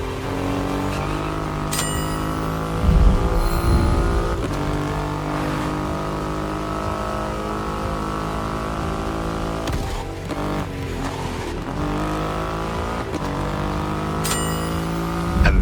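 A Triumph Rocket 3 motorcycle with a 2.5-litre engine runs in The Crew Motorfest: a steady, loud, deep engine drone with a rich harmonic hum that swells slightly now and then.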